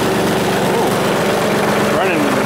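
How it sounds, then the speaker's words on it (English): An engine running steadily at high idle, a continuous even drone heard up close, with a voice briefly speaking over it. "Running high idle here."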